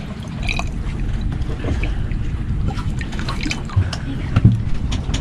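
Coconut water pours out of a pierced coconut as a steady close trickle with irregular drips and splashes, carried over a low rumble of background noise and a few louder thumps near the end.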